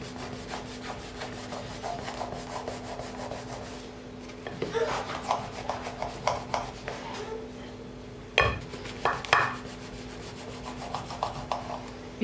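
A knife scores a tray of thin, crisp layered phyllo dessert into slices, giving repeated scraping and crackling cuts with a few louder clanks against the metal tray, close by and steady without talk.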